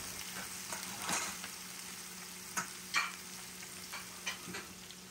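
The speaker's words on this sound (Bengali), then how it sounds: "এখন আমি একটু আদা রসুন দিয়ে দেব।" Ginger and garlic fry in a pan with capsicum for a homemade doner. A quiet sizzle is punctuated by a few sharp scrapes and clinks of stirring.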